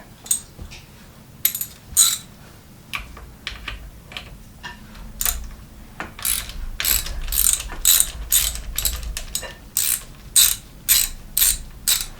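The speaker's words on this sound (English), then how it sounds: "We're removing the rear brake handle and rear shifter off the handlebars so we can remove it from the stem." A ratchet wrench loosens the rear brake lever and shifter on the handlebars of an old cruiser bicycle. Bursts of rapid, close metallic ratcheting clicks come in irregular runs, with no speech.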